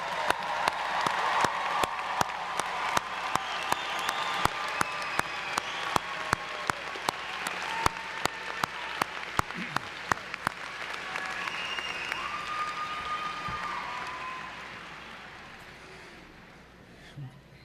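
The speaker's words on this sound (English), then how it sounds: "let's give our graduates a rousing round of applause" A large crowd at a law school commencement gives the graduates sustained applause, a distant wash of clapping and some cheers, with loud close claps punctuating it before it slowly dies down.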